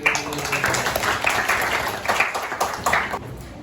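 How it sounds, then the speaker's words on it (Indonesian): A classroom of students claps for a classmate named Ali during a lesson, with uneven, lively hand claps in bursts, close and moderately loud, rising and falling for a few seconds. "Tepuk tangan untuk Ali."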